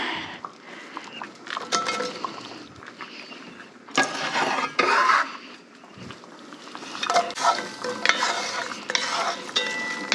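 Ghee (clarified butter) sizzles in a pan while a utensil stirs and scrapes it, the first step of an Irish lamb stew with Guinness. Close, steady frying hiss comes with repeated louder scraping strokes and light clinks.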